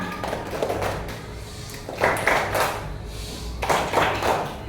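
A classroom of children performs the tepuk diam clapping routine, with bursts of rhythmic group claps and taps in several clusters, moderately close, over light room noise.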